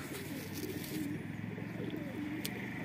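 Kashmiri pigeons, including red-headed birds with patterned tails, coo in soft, repeated low phrases against a steady background hum, with faint traffic in the distance.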